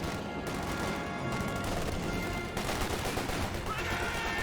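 Grenadier squads fire rifles and machine guns in a Company of Heroes 2 battle, giving a continuous dense rattle of overlapping shots at steady, moderate loudness with no break.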